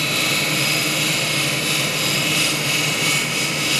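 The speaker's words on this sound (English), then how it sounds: "We're just dressing the wheel." A crankshaft grinder's wheel is dressed with a diamond, producing a loud, steady high-pitched whirring hiss with a constant machine drone, close and uninterrupted.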